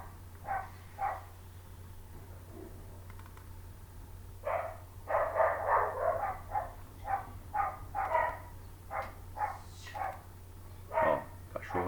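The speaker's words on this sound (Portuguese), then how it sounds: "Ó, cachorro latindo," A dog barks in repeated short bursts, with several close, sharp barks in quick clusters over a low steady background hum.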